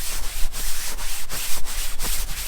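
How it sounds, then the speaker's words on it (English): A brush scrubs cleaner into the soft top of a JL Jeep Wrangler with quick rhythmic strokes, giving close, loud, repeated rasping rubs of about four per second with no talking. "I'm just going to give it a real quick scrub like this."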